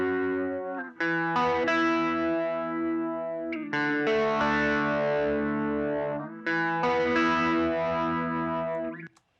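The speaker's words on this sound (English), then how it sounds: "I'm gonna bypass it real quick so you can hear the guitar we're going to affect" A dry, unprocessed mono electric guitar with its delay plugin bypassed plays sustained chords in three phrases, with clean harmonic tone and short gaps between strums.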